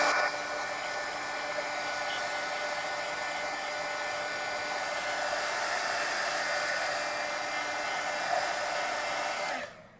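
A hair dryer blows on a wet, sticky patch of mixed media artwork, a loud steady whooshing hum running close and unbroken for about ten seconds before cutting off at the end.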